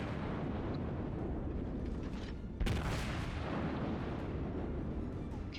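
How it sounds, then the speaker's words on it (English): Battleship guns of a German Tirpitz firing in a naval combat game: a single sharp booming blast midway over a steady low rumbling background, with no voices. "The Tirpitzes is also firing at me"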